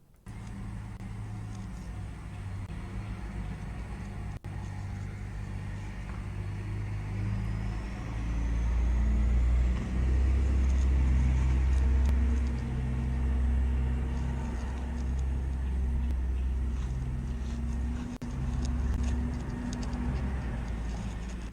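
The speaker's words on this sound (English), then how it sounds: "Look at the armored car." An armored car drives through a village, its engine a steady low rumble that grows louder midway and stays close, with faint birdsong above it.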